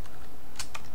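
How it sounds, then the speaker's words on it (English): Computer keyboard typing: two quick, crisp keystrokes close by near the end, over a steady background hiss, with no voices. "I'm going to close that tag by typing the same thing but with a slash first"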